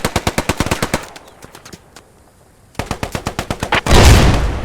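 Close machine-gun fire in Post Scriptum during a WWII assault: a fast burst of sharp shots, a few scattered single cracks and a near-silent gap, then another rapid burst ending in a loud, rumbling blast.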